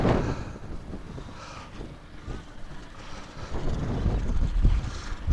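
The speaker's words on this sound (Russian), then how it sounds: "ветер задувает, я даже еще не пришел, это спину дует" Northern wind on a seaside beach at Vityazevo, a rough buffeting rumble against the microphone that swells and fades in gusts, growing louder toward the end, with no speech.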